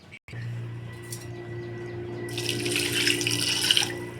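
Water poured into a pot of jaggery, a steady splashing stream close by that grows brighter and louder toward the end, over a low background hum.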